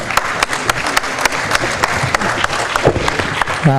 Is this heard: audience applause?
yes